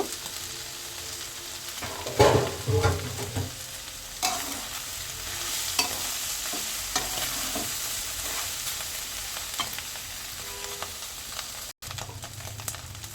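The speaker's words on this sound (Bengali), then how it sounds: "পাতাগুলা কাঁচা দিলে নাও থাকতে পারে, এলাকা আমি পাতাগুলা একটু হালকা ভেজে নিব" Leaves fry lightly in a pan with soft sizzling and the scrape of stirring, a few louder clatters early on, then a steady quiet crackle close up.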